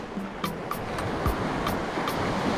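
Sea waves wash onto the shore at Panabe, St. Lucia, Mauban, Quezon, making a steady, close surf roar with light wind and short, regularly spaced bursts of noise on top.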